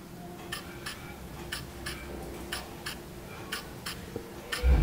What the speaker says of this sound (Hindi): ये कान में लगा सकते हैं और इसे दबाए तो आपको दिल की धक धक आवाज आती है।